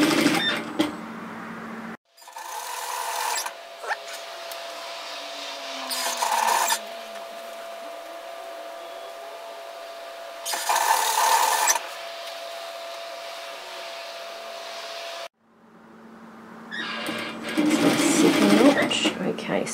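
A sewing machine stitches a convex seam on an apron dress, running in several bursts of steady whirring separated by pauses, close and fairly loud, with a voice talking in the gaps.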